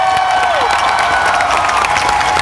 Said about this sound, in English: give a big round of applause for this awesome panel